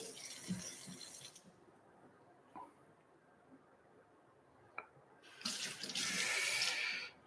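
Water runs from a tap to flush a diamond sharpening stone, a brief splash early on and a louder steady gush near the end, with small clicks in between.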